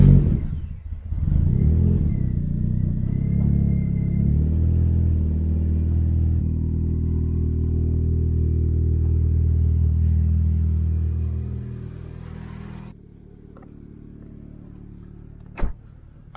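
A turbocharged Toyota Corolla drives with a steady, loud low engine rumble that holds for about twelve seconds before easing off into a quieter cabin hum, with one brief sharp click near the end.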